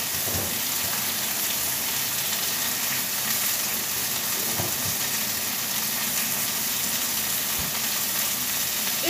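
Chicken thighs browning in a frying pan, Provençal style, giving a loud, dense, continuous sizzle and crackle with a few soft bumps, heard close up and without voices.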